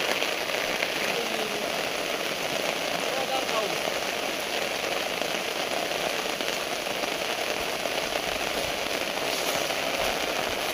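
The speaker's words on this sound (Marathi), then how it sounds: "मुसळधार पाऊस" Heavy rain pours down in a steady, unbroken roar, hissing loudly on surfaces for the whole stretch.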